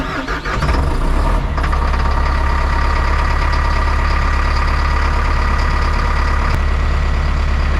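Kubota KX161 digger engine cranks and fires up, then settles into a loud, steady diesel idle with a deep constant rumble, close by and with no talk.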